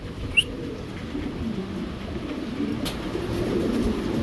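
Soft pigeon coos murmur in the low range over a steady background hum, with a brief sharp chirp near the start.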